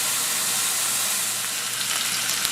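Lean beef burger patty frying in a pan, a steady close hiss and sizzle with faint crackles, fairly even throughout.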